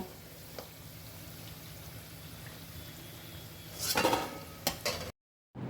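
Vegetable pakoras crackle and sizzle steadily in hot oil, a soft continuous frying hiss, then a brief burst of clinking and scraping as they are lifted out of the pan, followed by a moment of silence.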